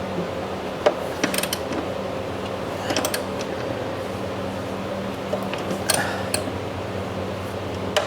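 A wrench cranking down the nut on a Cub Cadet mower deck idler pulley, giving scattered metallic clicks and ratcheting clanks against a steady low hum, sharpest near the start, middle and end.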